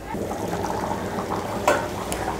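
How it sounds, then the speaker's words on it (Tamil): Chicken kurma bubbling in a pot on the stove, a soft steady simmer with small pops and one brief louder clatter near the end. "குருமா நல்லா கொதிக்குது."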